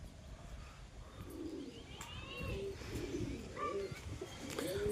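Pigeons coo repeatedly in a loft during hot weather, soft warbling calls rising over a steady rustling background, with a few brief chirps and a brief voice.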